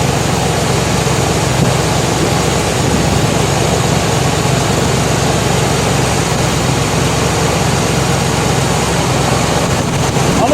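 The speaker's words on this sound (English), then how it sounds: "engine's too cold yet. So it's going to go up and down a bit until we really get some heat in there." A cold Buick engine idles steadily at close range, a continuous low rumble running throughout with a slight unevenness while it warms up.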